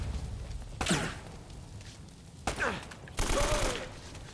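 Gunfire in the Uncharted video game: three separate loud bursts of shots with whooshing ricochets, spaced across a quieter bed of game ambience.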